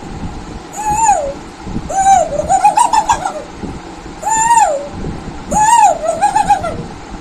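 A human voice imitates a koel's call, repeating rising whistled phrases in pairs, each followed by quick bubbling notes, clear and close.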